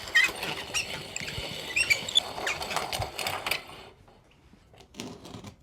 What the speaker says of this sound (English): pass that clay through my old Mexican corn grinder, which will make short work of turning that into a powder